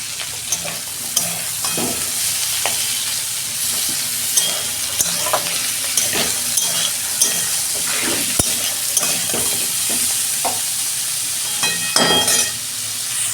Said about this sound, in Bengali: এই যে এবার আলুগুলো দিয়ে দিচ্ছি।